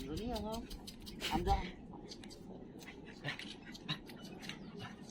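A dog whimpers and yips in short bursts at a moderate distance, with people talking over it.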